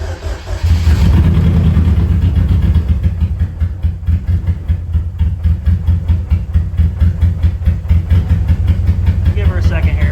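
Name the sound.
car engine starting and running after priming the fuel pump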